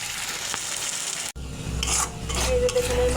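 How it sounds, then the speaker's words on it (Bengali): Spice paste of turmeric, coriander and Kashmiri chilli powder with cashew and melon seeds frying in a pan for rui fish kalia, with steady sizzling and scraping stirring strokes throughout and a brief pause partway. "মশলাটা কষানো হয়ে গেছে"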